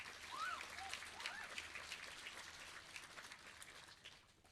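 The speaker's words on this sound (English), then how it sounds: "Round of applause for Eva, please." Crowd at a Year 12 graduation ceremony applauding, a faint, distant patter of many hands that slowly dies away, with a few faint squeaks over it.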